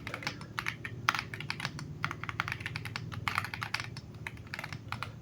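Rapid typing on a Royal Kludge RK75 mechanical keyboard, with crisp, clicky keystrokes in quick uneven bursts, close by and steady throughout.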